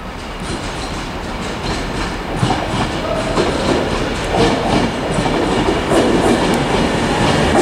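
An Avanti West Coast Pendolino, the 0903 Birmingham New Street to Edinburgh service, arrives at Carlisle station on the West Coast Main Line, a loud continuous rumble with rhythmic clickety-clack of wheels on rail joints close by.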